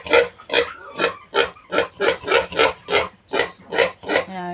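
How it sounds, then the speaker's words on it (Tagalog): Newly weaned piglets, just separated from the sow, squeal in a steady chain of about ten shrill, close bursts, evenly spaced and loud, with no talking. "Ang aming mga munting biik"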